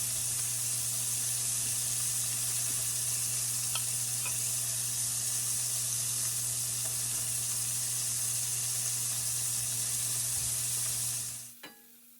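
Tenderloin sizzles in salted butter in a pan in a home kitchen, a steady close frying hiss that continues evenly and then cuts off near the end.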